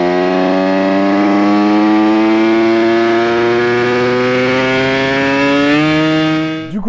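A tuned 70cc Yamaha DT moped with an AM6 engine and top-performance kit rides back to the workshop, its high-pitched two-stroke whine holding steady and close, then rising briefly before cutting out at the end.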